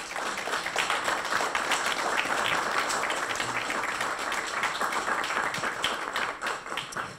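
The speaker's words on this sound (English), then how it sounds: "I saw someone try to applaud." Audience at a panel discussion on news consumption claps for the speakers, a steady, moderately loud patter of many hands that holds for several seconds and tapers slightly at the close.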